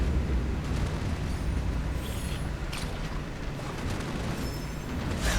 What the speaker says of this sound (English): There's some shooting going on as they're trying to navigate this